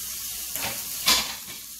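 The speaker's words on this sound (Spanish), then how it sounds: "Vamos a freír el chorizo también." Chorizo frying in a pan gives a soft, close sizzle with two brief louder hissing surges, as if stirred or turned, over a quiet background.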